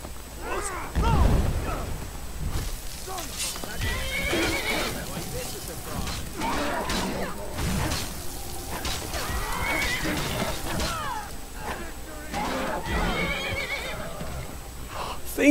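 A horse neighs and whinnies repeatedly in the Skyrim video game, loud and close, with hoof clops and other game sounds mixed in over a busy background.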